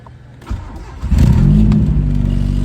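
A car engine cranks briefly, then catches and fires up, settling into a loud, close, steady running rumble with no voices.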